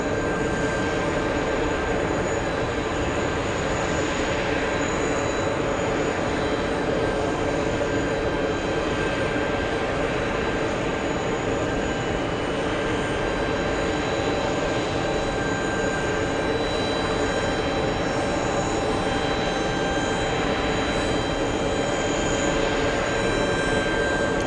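Dynasty 012, a heavy airliner on approach to JFK, gives a steady, continuous broadband engine roar that holds at an even loudness throughout, with no voices.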